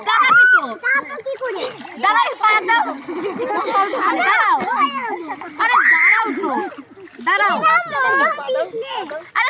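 A young child splashes in water while learning to swim, with choppy splashes mixed under nearly continuous talk from an adult and the child close to the recorder.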